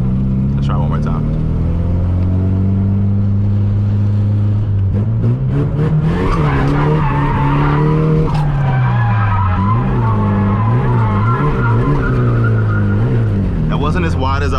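A Nissan S14 drifts with loud, sustained tire squeal and skidding over a droning, revving engine that rises and wavers as the car slides, recorded close and from inside the car, with a voice talking over part of it.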